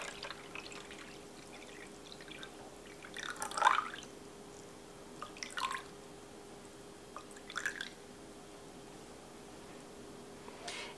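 Water poured into a measuring cup on a kitchen scale while weighing 350 grams for a sourdough sandwich loaf, heard as a few short, quiet splashy trickles spaced apart, with no talking.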